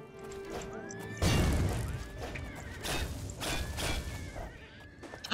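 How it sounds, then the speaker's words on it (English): A horse neighs in the video game Oblivion amid combat, with a rising whinny over loud crashing and thudding hits, repeated cries and clatter filling the scene. "The horse has more health than he did."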